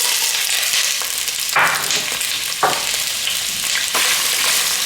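Washed chicken gizzards and hearts fry in a pot, a steady close sizzle with a few brief louder bursts as the pieces are stirred; no one speaks.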